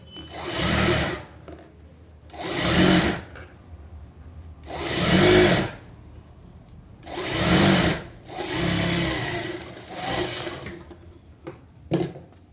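Sewing machine stitching a computer-work blouse, running in about five loud, close bursts of steady whirring stitching roughly a second or two each, separated by short pauses, ending with a couple of brief clicks.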